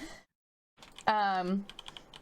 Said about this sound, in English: I can't wait till I get a better mic so I can block out my mechanical keyboard for everybody listening